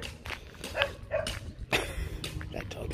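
A bossy dog barks a few times outdoors while someone walks, with sharp mid-distance yelps over footsteps and background noise.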